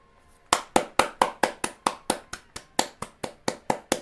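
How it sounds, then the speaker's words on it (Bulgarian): Sharp, evenly spaced claps or slaps ring out about four per second for several seconds, each crisp and close, with no talk. The single steady beat sounds more like one or two people clapping than a full crowd. "Бурни аплодисменти."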